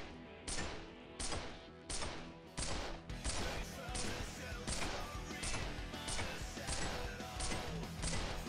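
Semi-automatic gunfire in the video game Swat 4: a steady string of sharp, loud single shots, spaced at first and then firing faster in a regular rhythm, each with a short ringing echo.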